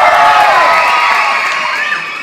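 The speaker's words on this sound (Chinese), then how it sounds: "能不能听到你们的尖叫啊" An indoor concert crowd at a choir performance screams and cheers loudly, a bright wall of high-pitched shouting and whoops that holds steady and eases slightly toward the end.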